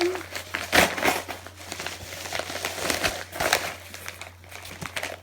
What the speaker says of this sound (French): Fait que je vais le déballer.